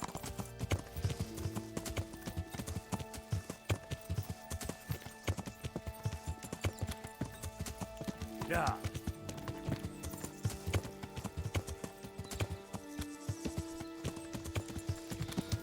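Fast, steady hoofbeats of a galloping horse in the video game Kingdom Come: Deliverance run throughout, with a single neigh partway through.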